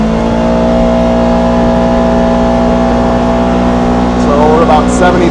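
A 2027 Polaris Xpedition UTV engine drones loudly on a quiet back road, holding a steady high-revving tone as it gathers speed, with a brief rising whine near the end.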